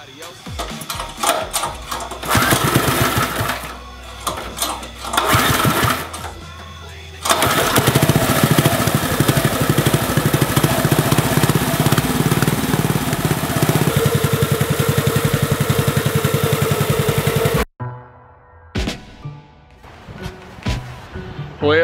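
A small engine fitted with a new carburetor cranks in short bursts, then fires up and runs loud and rough for about ten seconds before cutting off, with voices talking over parts of it.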